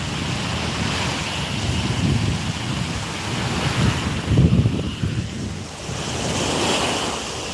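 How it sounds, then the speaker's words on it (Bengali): Sea surf rolling onto a beach at Cox's Bazar, a continuous broadband wash of breaking waves mixed with wind buffeting the microphone, with no voices. "দেখো সমুদ্র মনে হচ্ছে যেন চলে আসছি একদম পা ভিজে যাবে"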